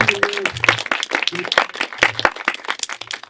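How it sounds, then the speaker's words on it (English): Audience applause fills a room with dense, steady clapping throughout, while a few voices call out and talk faintly underneath. "Give a round of applause for that."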